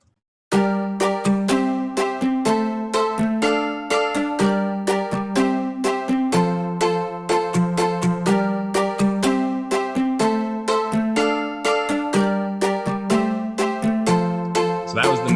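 A synthesizer patch from Omnisphere software plays a bright, bell-like repeating pattern of quick plucked notes over a steady low tone, loud and continuous after a brief silent start, with no talking.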